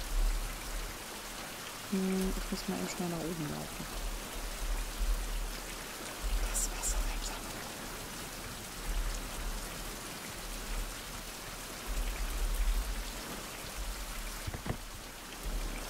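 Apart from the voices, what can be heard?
rain falling in the video game Fountain of Youth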